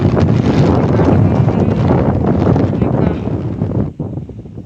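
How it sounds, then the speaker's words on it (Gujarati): Strong wind buffets the microphone in a steady, loud roar with gusty rumbling, easing slightly near the end. "પવન છે પવન કોઈ બપોરે ન હોય એવું બને જ નહીં પવન છે"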